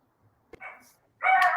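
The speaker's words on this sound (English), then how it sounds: "I have a little barking dog where I am right now." A small dog gives a couple of sharp barks indoors, a short yip followed by a louder, sustained bark, fairly close and clear with little else around.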